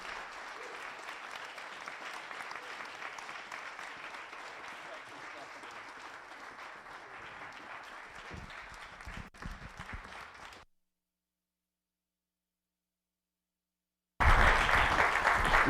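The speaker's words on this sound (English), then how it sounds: "let's give a big round of applause" A library audience claps for two guests taking the stage on a snowy afternoon, steady sustained applause for about ten seconds that breaks off into silence, then a burst of loud sound returns at the end.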